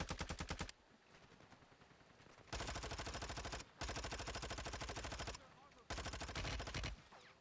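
Automatic weapon fire in Warzone 2.0 while strafing behind a bush, several long loud bursts of rapid shots separated by short gaps, close and without talk.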